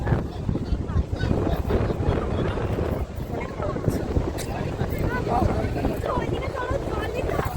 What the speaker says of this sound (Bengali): কেমন হাওয়া দিচ্ছে বল।